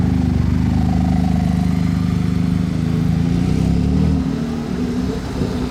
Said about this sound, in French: Celle-ci c'est une T-Cart, écoutez un peu le bruit.